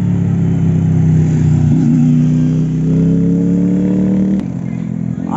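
A Yamaha Mio motor scooter's engine hums loudly and steadily at close range, its pitch rising and settling before an abrupt drop as it eases off.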